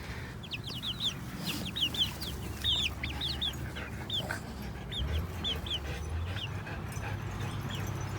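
Backyard chickens on their first day outside cluck and chirp in quick repeated bursts, fairly close, with a low background rumble and no talking.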